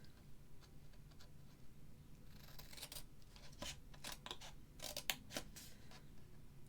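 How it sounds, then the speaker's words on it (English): Scissors snip through paper while a fancy fold gift box is cut out, a quiet series of irregular, crisp close cuts with no talking. "Now what we're going to do is cut up"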